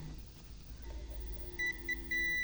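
Continuity beeps from a multimeter testing a shorted MOSFET in an inverter: two short tones followed by a longer sustained beep, clear and close over a low electrical hum.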